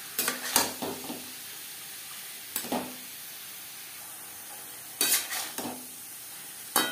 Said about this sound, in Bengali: পেঁয়াজের সাথে থোর বেশ ভালো করে মিক্স করে দেবো।